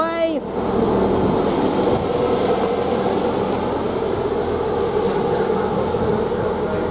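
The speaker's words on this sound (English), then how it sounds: "Now we've got another train, 157785. East Midlands" East Midlands Railway train 157785 rumbling steadily through Ely station, a loud continuous roar of engine and wheels with a brief squeal at the start.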